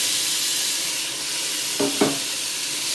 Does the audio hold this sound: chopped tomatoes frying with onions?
yes